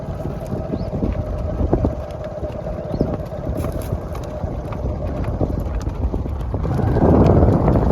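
A mare's hooves clip-clop steadily outdoors in a close, continuous rhythm, with heavy wind buffeting the microphone that grows stronger near the end.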